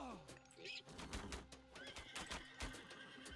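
Horses whinny and neigh from mounted horse archer units in a real-time strategy video game, with a sharp falling whinny at the start and hooves clip-clopping under battle effects and a commentator's voice.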